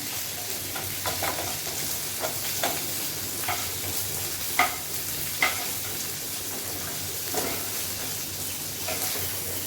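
Chicken pieces, some small and some large, fry in hot oil with a steady crackling sizzle, broken by a few sharp clicks and scrapes of a utensil moving them. No one speaks.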